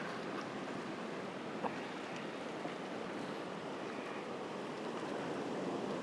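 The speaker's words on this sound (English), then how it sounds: "Now I need one wave to wash in here on a slow exposure to get that blurred movement in the foreground" An ocean wave washes in on the shore of a sunset seascape, a steady broad hiss of surf rushing forward with faint wind buffeting the microphone throughout.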